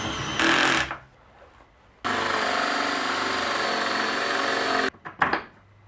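Power drill boring into wood in two bursts, a short one then a longer steady whine, followed by a few clattering knocks.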